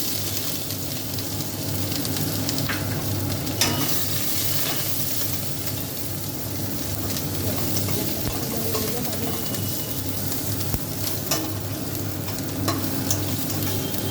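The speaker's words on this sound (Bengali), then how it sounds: "পেঁয়াজটা একটু লালচে করে ভাজা হবে" Grated onion sizzles steadily in a pan with spiced oil, a constant close frying hiss with faint occasional stirring, quiet and unbroken throughout.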